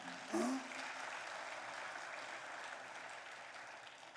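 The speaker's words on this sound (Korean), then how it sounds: "박수 한번 줘" A church congregation applauds during a Sunday sermon: a steady, fairly faint wash of clapping from a crowd that holds for about four seconds, with a brief voice at the start.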